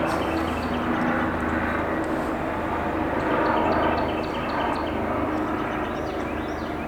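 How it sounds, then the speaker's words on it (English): An airplane passes overhead, a broad steady engine roar that swells slightly in the middle and then eases, loud and continuous with no talking over it. "just wait for the plane"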